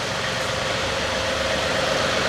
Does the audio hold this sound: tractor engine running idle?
yes